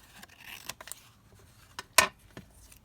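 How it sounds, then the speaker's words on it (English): Scissors trimming paper for a junk journal: a few quiet, scattered snips and one sharper, louder cut near the end, with the room otherwise near silent. "we'll just trim that down there"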